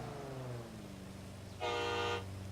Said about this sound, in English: there's his horn